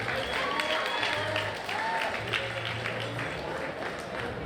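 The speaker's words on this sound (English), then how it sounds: "I think that deserves a big round of applause." Guests at a wedding reception applauding after a speech, steady close clapping from a crowd with cheers and murmuring voices mixed in.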